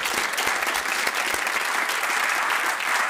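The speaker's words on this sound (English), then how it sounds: "I would like to give them a round of applause." An awards ceremony audience in a large hall applauds steadily, dense and sustained clapping from a big crowd that holds at an even level from start to finish.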